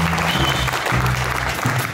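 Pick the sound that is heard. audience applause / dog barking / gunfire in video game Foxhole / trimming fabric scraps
audience applause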